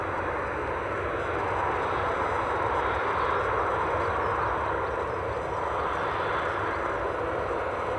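An airplane departing Edinburgh Airport on an evening, heard as a steady, broad jet engine roar that holds loud and even throughout with no talking.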